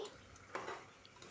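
Curry masala stirred in a pot, with faint spoon scrapes and a couple of soft metallic clinks, quiet and close.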